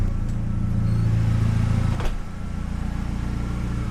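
An AWD Mini Cooper fitted with a DSM 4G63 engine drives along, a steady low engine drone holding for two seconds before a brief dip and shift, then continuing as a rougher rumble.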